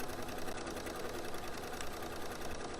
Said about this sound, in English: And then I'm just going to sew all the way around it.